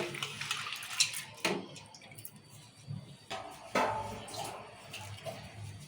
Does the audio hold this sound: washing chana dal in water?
yes